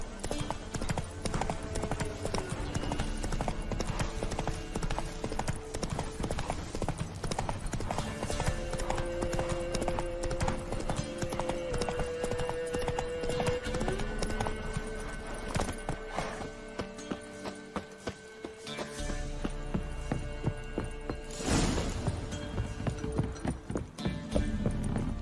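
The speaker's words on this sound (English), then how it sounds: "Whoa there, Roach." Horse hooves clip-clop steadily at a walk in The Witcher 3, with a brief whinny and faint creaking in the game's outdoor soundscape, continuous throughout.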